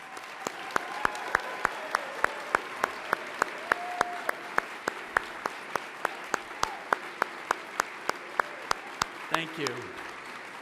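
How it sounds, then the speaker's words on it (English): An audience at a Spanish Fork vs Desert Hills softball event applauds the recognized sixth-grade children, with crisp individual claps in a steady rhythm and a voice speaking over it. "Let's give them a round of applause."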